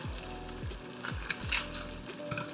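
Collard greens being stirred in a pot with vinegar and seasonings give off a soft, continuous sizzle, with low repeating hums and faint scraping running through the quiet texture.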